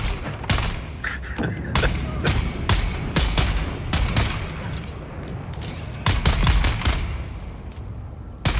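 Rapid gunfire in Dune Awakening, a run of loud, sharp shots fired in quick irregular bursts with short pauses between volleys, heavy and close over a constant rumbling background.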